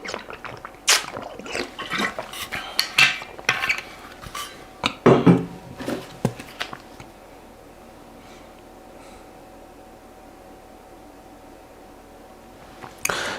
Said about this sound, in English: Just give me a minute here to just get a couple of sips of water.